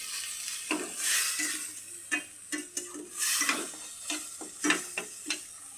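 Chilli, turmeric and salt masala fries in a pan for a mung dal dhokla curry, a soft sizzle under repeated spatula stirs and light taps, fairly quiet and close.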